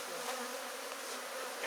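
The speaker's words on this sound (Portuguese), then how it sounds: "tem as abelhas ainda para colocar nela." Honey bees buzzing at an open beehive during colony splitting: a dense, steady, close drone of many wings with no pauses.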